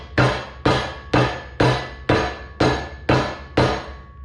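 Eight evenly spaced, loud metallic hammer blows drive a 32mm socket down to seat a fork seal on a Yamaha XS650 motorcycle, each strike ringing briefly before the next, close and without speech.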